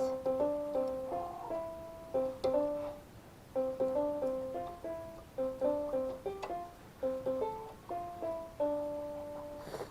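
A piano plays a birthday tune as a slow, simple melody of single notes and short phrases, clear and close with light background hiss, no talking.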